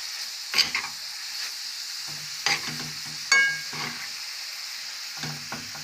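Meat with mushrooms and sour cream sizzles steadily in a pan while a utensil stirs and scrapes the pan in several short bursts, close up.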